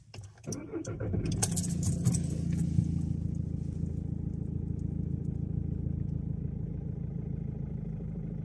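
A cold Audi/Volkswagen/Skoda TDI diesel, unstarted for two or three days, cranks briefly then catches into a steady, clattering diesel idle, close and loud, running alone without talk.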